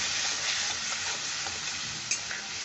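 Catla fish pieces with coriander sizzling and frying in a pan while a utensil stirs through them, a steady loud crackle with brief scraping accents, no talking.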